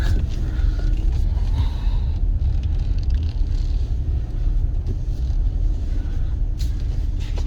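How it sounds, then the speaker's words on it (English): A Chevrolet Colorado pickup truck idles and reverses, its engine giving off a low, continuous rumble heard from close by, with faint background sounds on top. "It's a hard shift in the reverse. The vehicle kind of shakes, but let's get it out here."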